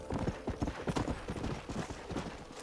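Horse hooves clip-clopping in Red Dead Redemption, a close, fairly quiet run of uneven hoof strikes on hard ground, with a brief whinny-like sound and no talk.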